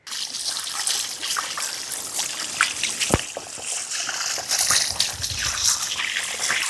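Water trickles and splashes steadily while fish are washed by hand, a close, continuous running-water sound with sloshing bursts and one sharp splash midway.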